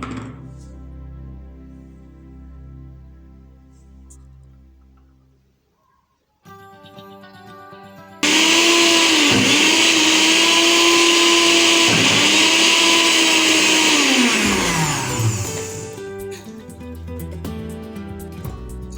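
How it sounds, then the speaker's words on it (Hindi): A blender runs loud and steady through hummus with tahini while oil is gradually added, its motor whine dipping and recovering as the load shifts, after quieter kitchen sounds at the start. "इसको हम अच्छे से ब्लेंड कर लेते हैं। आप इसमें ग्रेजुअली ये ऑयल ऐड करते रहेंगे।"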